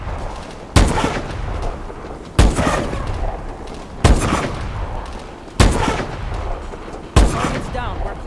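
Gunfire in the video game Call of Duty: Advanced Warfare: five heavy, booming shots spaced about every second and a half, each with a sharp attack and a long rumbling tail, over low background ambience.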